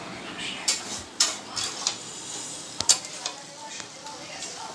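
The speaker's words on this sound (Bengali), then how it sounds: "আমার বৌদি রান্না করছে, মাংস এখন কষাচ্ছে।" Meat being sautéed (kosha) in a pot in a home kitchen: a low steady sizzle with sharp clinks and scrapes of a spoon against the pot, several distinct knocks over the sizzling.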